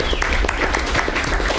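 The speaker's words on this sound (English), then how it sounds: "that is worth an applause." An audience at a school board meeting bursts into brisk applause, close and loud, with individual claps standing out from the dense patter over a short burst.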